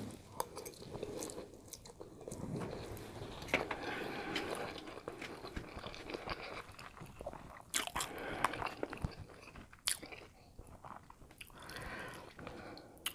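Close chewing, slurping and soft crunching of black bean noodles with shrimp, irregular bites and mouth sounds throughout with occasional sharp clicks, no talking.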